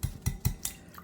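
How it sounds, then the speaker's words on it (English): Spoon or whisk scraping a pot of lemon juice and egg yolk pie filling, four distinct clinking strokes in a steady rhythm, close and fairly quiet. "as I stir it, you'll see it kind of thickening up"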